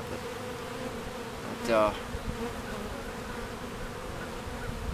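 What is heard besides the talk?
swarm of bees buzzing for a bee beard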